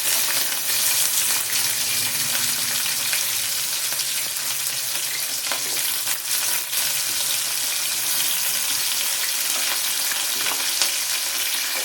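Onion and green chillies fry in a pan, giving a steady bright sizzle with occasional crackles and stirring scrapes throughout. The sizzle is close and continuous, with no talking.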